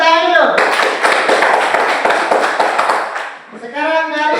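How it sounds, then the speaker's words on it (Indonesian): A class of schoolchildren claps hands together in a dense burst of overlapping claps lasting a few seconds, framed by a voice talking just before and after. "Oke, mari tepuk tangan dulu."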